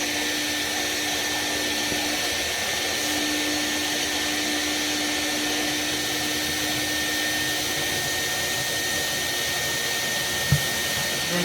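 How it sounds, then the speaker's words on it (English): Vacuum cleaner running steadily while cleaning out a Buderus cast-iron boiler, a loud continuous whine with a sharp bump near the end. "Anyway, let's vacuum it out."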